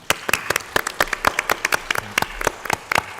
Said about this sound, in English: David, Paul, Adriana, and Damilari, please give them to applause.